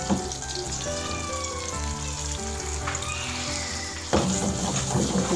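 Chicken kebabs frying in a pan, giving a dense, continuous sizzle with crackling pops and a few brief clinks or stirring touches, loud and close.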